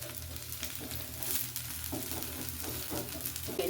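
A dosa tempered with seasoning fries in oil on a hot pan, a steady close sizzle running throughout with faint scraping stirs and no voices.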